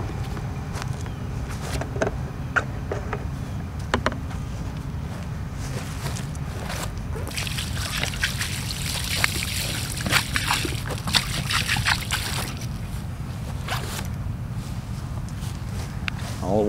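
Water from a hose splashes and trickles over a plaque outdoors, a steady wash of spatter and dribbling with occasional louder splashes and some shuffling nearby.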